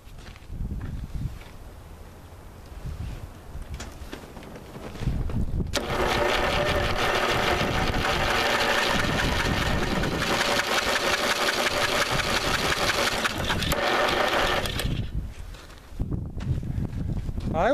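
A 1985 Lawn Chief push mower engine with the spark plug removed is cranked over, a steady loud mechanical whirring that runs for about ten seconds, with quieter handling noise before and after.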